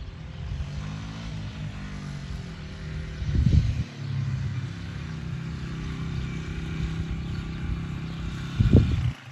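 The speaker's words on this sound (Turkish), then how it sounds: "motorla geziyorlar şu anda Defne ile abisi" A motorcycle riding through a village gives a steady, mid-distance engine drone that holds evenly throughout, swelling briefly twice, with no one speaking.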